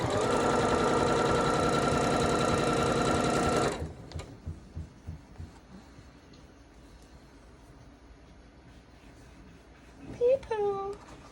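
A sewing machine runs in one steady, fast burst while stitching a two-color red quilt, then stops and leaves a few soft clicks and handling noises, with a short voice at the end.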